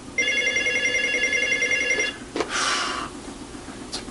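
Toy telephones ring: a bright electronic trill for about two seconds, followed by clacks and a short noisy burst, heard clearly over a soft background.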